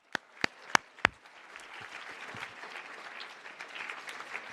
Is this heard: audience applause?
yes